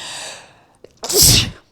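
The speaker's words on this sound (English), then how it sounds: "Ooh, I was feeling that sneeze for a while." A single loud sneeze with a sharp intake of breath just before it, close up, ending quickly in quiet.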